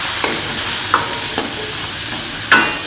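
Pork with spices is stir-fried in a wok, with a steady sizzle broken by several sharp scrapes and clanks of the spatula against the metal, close and fairly loud.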